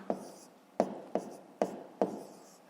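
A pen writes figures in a fifth-grade maths exercise, five short scratchy strokes starting in an even rhythm, close and clear with no talk.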